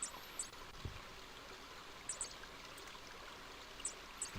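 Quiet, steady rush of a flowing stream in the King's Quest V computer game, a soft continuous wash with faint chirps over it and a low thump near the start.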